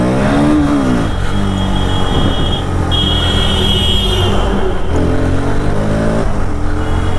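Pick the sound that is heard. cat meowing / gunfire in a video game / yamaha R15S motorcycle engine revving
yamaha R15S motorcycle engine revving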